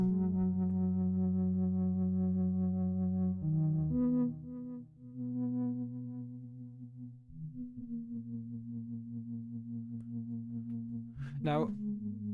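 Synthesizer patch with a soft, flute-like tone plays sustained held notes that shift pitch several times, fairly quiet and close, with a brief chirping sweep near the end.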